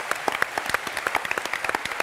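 A TV studio audience applauds, a brief dense burst of many hands clapping steadily at close range.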